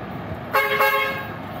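A bus horn blares in a single strong toot of about a second that swells midway, close and loud over faint street rumble.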